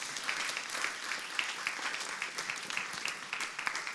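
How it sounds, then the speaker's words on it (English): An audience giving a round of applause at a school event, dense steady clapping from many hands, moderately distant and even throughout. "So let's give my colleague a round of applause"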